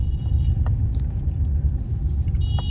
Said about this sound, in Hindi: तो दूसरे गियर पे चल रही गाड़ी,